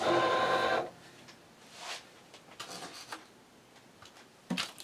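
A Cricut Explore 4 cutting machine whirs briefly at the start, then gives way to quieter mechanical ticks and soft movements nearby.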